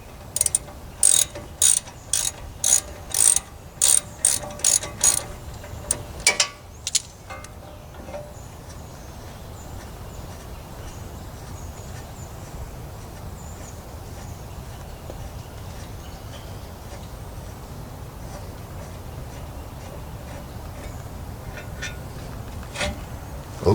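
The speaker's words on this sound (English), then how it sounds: "I'm going to take the last bolt off on the back, and it should be free." A ratchet wrench loosens the last rear brake caliper bolt on a Toyota Tundra during a pad and rotor job. It gives a close, loud series of rapid clicking bursts over the first seven seconds, then only quiet workshop background remains.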